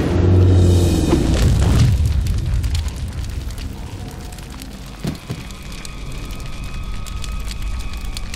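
In Mass Effect 1, a destroyed node on Feros erupts with a deep booming explosion, then a long rumbling, crackling decay with a fainter secondary thud midway, alone without talk.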